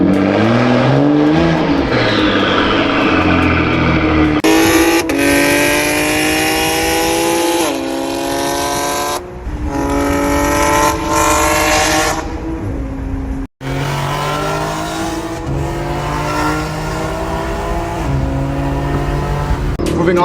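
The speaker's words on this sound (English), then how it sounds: "I really love this exhaust." A big-turbo BMW M4 (G82), built to about 800 horsepower, roars and revs through several loud exhaust bursts, rising and falling in pitch with sharp cuts between pulls.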